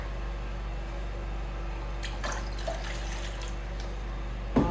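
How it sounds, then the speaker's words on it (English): Water runs into a cooking pot in short bursts, a quiet gurgling trickle over a steady low hum, ending with a louder splash or clunk. "What is next is I'm going to be pouring in water in my pot."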